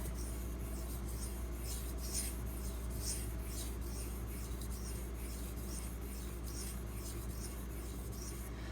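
A knife blade is drawn repeatedly across a Pride Abrasives water stone, producing a close, rhythmic series of gritty rasping strokes, about one per second, over a steady low background hum.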